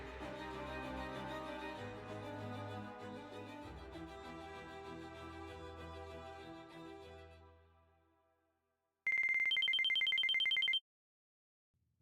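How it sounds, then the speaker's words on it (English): A cell phone rings loudly in a dark house at night: a bright electronic ringtone trill bursts in after a fading low musical passage and silence, then cuts off abruptly. "The shrill pierce of the cell phone rang throughout the entire upstairs of the house like a siren's call."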